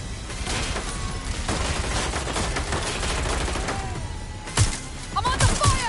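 Rapid bursts of video game gunfire crackle through a dense, busy mix, with sharper, louder shots near the end.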